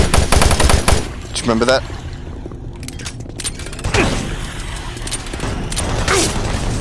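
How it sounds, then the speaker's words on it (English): A chain gun fires in the video game Doom 3 during close-range combat, rapid loud bursts of gunfire with booming impacts, while players talk over it. "Why would a chain gun be a thing for close range combat, though?"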